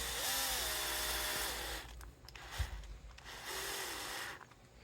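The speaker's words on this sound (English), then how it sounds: "Just put in a couple of screws" A power driver sets screws into the headstock of an Epiphone guitar during a repair, with two close whirring bursts of rising and falling pitch separated by a brief pause and a knock.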